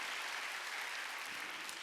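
A congregation claps together during a Wednesday worship service at a church, a dense and steady wash of applause that holds evenly for the whole stretch.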